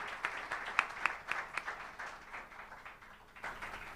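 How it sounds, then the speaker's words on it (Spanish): Modest audience applause at a Trelew political debate for a candidate, fairly quiet scattered clapping rising and thinning over a few seconds. "El aplauso para el candidato de Cambia Chubut"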